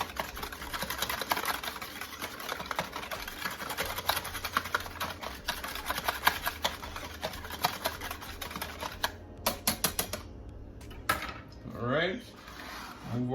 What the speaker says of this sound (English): let's whisk all of that into our egg